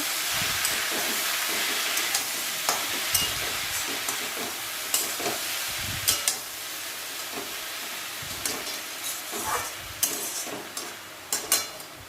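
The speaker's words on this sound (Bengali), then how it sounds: "শাকটা দেওয়ার পরে এবার লবণ দিলাম আর হলুদের গুঁড়ো দিয়ে দিচ্ছি পরিমাণ মতন, দিয়ে একটু নাড়াচাড়া করে নেব।" Leafy greens with salt and turmeric powder being stirred in a pan, a continuous frying sizzle with repeated scraping and clacking utensil strokes close by.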